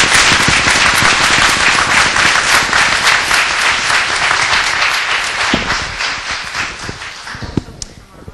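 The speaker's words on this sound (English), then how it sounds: "we owe all the speakers a really big hand of applause" An audience at a talk on videogames and youth gives the speakers a big round of applause, dense loud clapping that gradually thins and fades, with a few scattered claps at the end.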